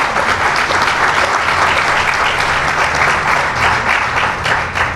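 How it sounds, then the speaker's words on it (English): An outdoor crowd at the groundbreaking ceremony for the Aspire Center gives a steady, loud round of applause that holds dense and unbroken throughout. "Let's give everyone a round of applause."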